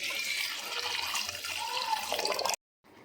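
Water poured from a tap onto tamarind to soak it for a homemade rasam, a steady close splashing and trickling stream for about two and a half seconds that then cuts off abruptly.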